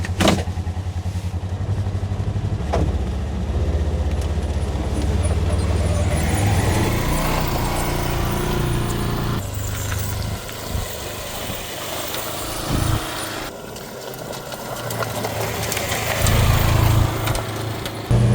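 A 2025 Polaris Ranger XP 1000 petrol utility vehicle engine runs steadily while driving, a continuous close motor drone that rises and falls with throttle changes and shifts in tone over its length.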